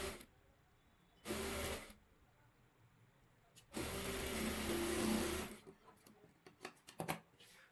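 An electric sewing machine stitches a readymade broad neck onto fabric in two loud, steady whirring bursts, one short and one longer, followed by light clicks and fabric handling.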